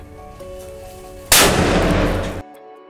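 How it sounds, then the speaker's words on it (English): A Diwali firecracker bomb lit by hand outdoors goes off in one sudden loud blast that roars for about a second before cutting off, with faint background hum before it. "He's going to light the bomb for us."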